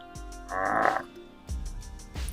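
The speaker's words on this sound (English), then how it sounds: "It was a toad, calling out for a mate." A toad calls for a mate in short croaking bursts, three rough pulses spaced through a couple of seconds, fairly close, set against a steady tonal background.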